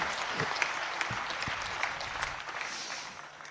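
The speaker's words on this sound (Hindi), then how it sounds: "एक बार सदन जोरदार तालियों से उसका स्वागत करे" Assembly at a Hindi poetry recital gives sustained applause, a continuous bed of clapping with a few sharper close claps standing out, fairly even throughout.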